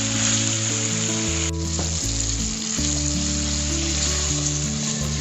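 Tamarind sizzles loudly as it is stirred into spice paste frying in a pan for asam pedas patin fish, a dense close hiss with spoon scrapes and no voices.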